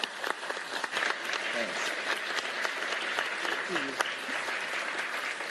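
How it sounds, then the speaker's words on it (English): Round of applause from an audience at a religious freedom commission event, dense and continuous clapping, with a brief spoken thanks heard over it. "Please give her a round of applause."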